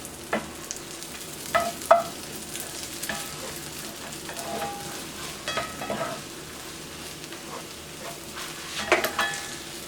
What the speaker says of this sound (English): moving my egg around.